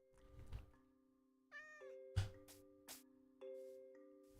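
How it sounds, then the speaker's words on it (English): Minecraft cat meowing in the game, several short mewing calls spaced apart over a steady quiet game background with faint sound effects. "Kitty? Hi, Kitty. How you doing"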